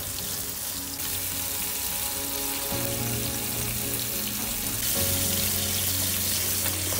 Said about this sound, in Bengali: একটু ভালো করে ভেজে নিচ্ছি।